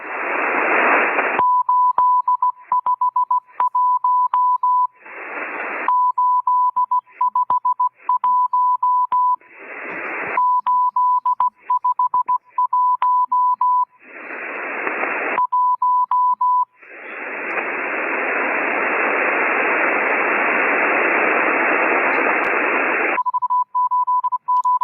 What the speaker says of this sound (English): So they start up with some kind of ID and then some fast Morse code message.